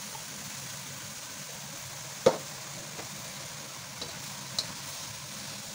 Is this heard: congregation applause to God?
no